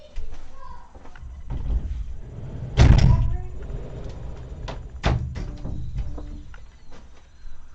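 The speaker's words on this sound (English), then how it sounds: "let me just close the doors here because my family's being loud" Doors being shut at home with a loud family nearby, one firm thud followed a couple of seconds later by a second sharp knock, among softer rustles and small knocks in a quiet room.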